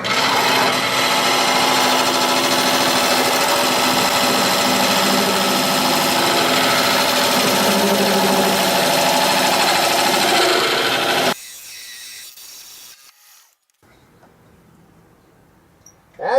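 Wood lathe spinning a eucalyptus bowl held in a chuck, a loud, steady whirring rub with a scraping tool edge for about eleven seconds, then cutting out abruptly to near silence with faint handling noises.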